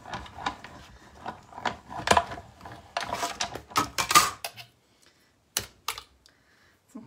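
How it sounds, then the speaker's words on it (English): A die cutting machine cranks paper through with metal dies for a sympathy card, giving a run of close, loud clicking and rattling bursts, then a quieter gap with a few scattered knocks. "let's do a little die cutting"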